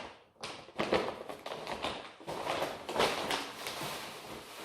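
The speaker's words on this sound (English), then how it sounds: "now I'm just going to chuck in some perlite." Perlite is tipped into potting soil while repotting rare monsteras, making soft tapping thuds and a continuous gritty rustle. The sound is close and fairly quiet, with no talking.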